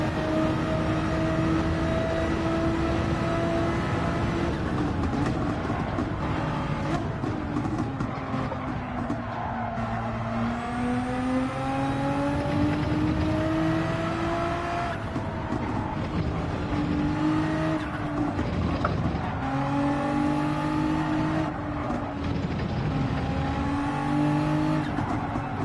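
Nissan GT-R race car lapping Suzuka in a racing video game, its engine droning steadily and rising and falling in pitch through gear changes, with tire squeal and skidding through corners, loud and continuous throughout.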